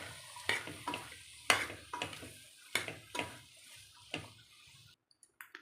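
Vegetables are stirred into masala for a vegetable kurma, with a spoon scraping the pan in about seven regular strokes over a soft sizzle, close and fairly quiet, ending in a few light taps.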